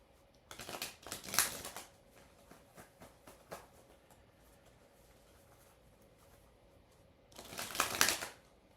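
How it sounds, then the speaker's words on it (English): Two bursts of riffling tarot cards being shuffled, close and crisp, with a few soft card taps and a quiet pause between them. "while I shuffle the tarot until the tarot tells me not to"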